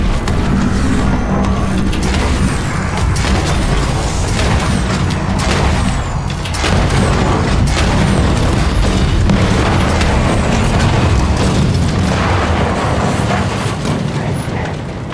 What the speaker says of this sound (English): Damn, that's some big ass explosion.